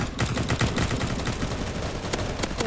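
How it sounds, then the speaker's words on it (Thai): Gunfire fired from a car in a Roblox zombie game, a dense, loud, continuous rattle of rapid shots with no talking. "เราสามารถยิงได้ขนาดที่เราอยู่ในรถ"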